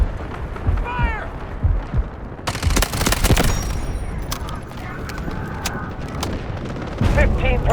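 M4A1 assault rifle fire in the video game Delta Force, loud bursts of rapid shots and booming blasts over a low rumbling battlefield backdrop, with sweeping effects and game voices calling out.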